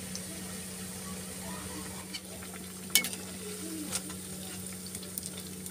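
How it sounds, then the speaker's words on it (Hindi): Bread pakora half-frying in hot oil, a low steady bubbling sizzle with a hum underneath and a few sharp clicks and taps scattered through. "इनको हमने पहले हाफ फ्राई करना है, फिर हम इसको दोबारा फिर फ्राई करेंगे।"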